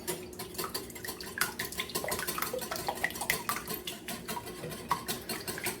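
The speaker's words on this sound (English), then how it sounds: "Then we're going to add in a little bit of cream. Usually about 1/4 cups is enough. I just kind of eyeball it. And we're going to whisk that up." Cream is whisked into an egg wash in a bowl for pork schnitzel, giving a steady run of quick, close clinking and scraping strokes with no talk.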